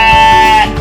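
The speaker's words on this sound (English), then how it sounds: "I have Dorper sheep, so best tasting meat you'll find on a sheep, but probably the loudest sheep there is." A Dorper sheep bleats once, loud and close, a sustained wavering cry that trails off near the end, on a suburban homestead.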